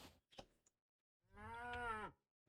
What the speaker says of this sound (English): I think it might have been a cow.